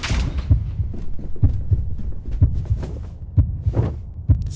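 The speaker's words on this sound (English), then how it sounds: "There's the heartbeat." Steady low heartbeat thumps in a short film's sound design, each beat a soft double pulse repeating roughly once a second, deep and close with no speech.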